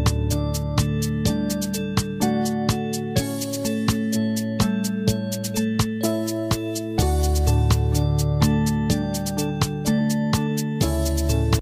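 Indie pop song, a steady rhythmic track with sustained keyboard chords, a bass line and regular percussive hits, played loud and continuous with no talking over it.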